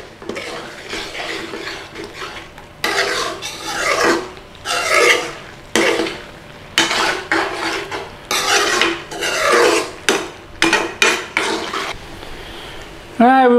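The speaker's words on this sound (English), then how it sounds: "Just give it a stir from time to time." Chicken rogan josh being stirred in a pot, a spoon scraping and rasping against the pan in repeated close bursts with short pauses between, fairly loud and alone.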